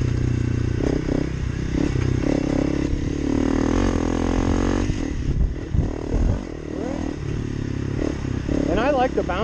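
A Honda CRF300L Rally motorcycle riding a bumpy dirt road, its engine revving and droning loudly with clatter and scraping from the rough surface, while a rider talks over it.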